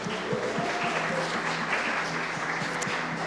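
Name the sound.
church congregation applause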